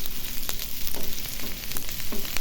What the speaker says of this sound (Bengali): আমি পেঁয়াজটা ভাজতেছি।